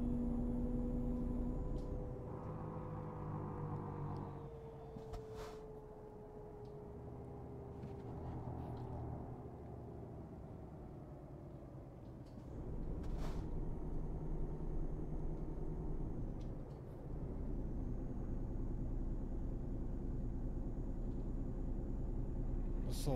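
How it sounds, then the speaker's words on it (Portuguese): Volvo truck engine running steadily while the truck drives on a road, a continuous low rumble with shifting tones and a brief dip mid-way, with some talk over it. "eu gosto desse som do Volvo"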